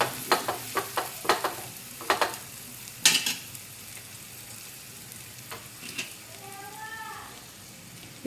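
Pav bhaji masala is stirred into frying vegetables in a pan, with a low sizzle under a series of sharp spoon scrapes and taps, then a quieter stretch.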